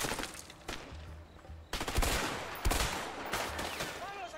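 Rapid bursts of gunfire in the A Way Out video game crackle in loud clusters, with sharp shots and echoing volleys across the whole stretch and no voices.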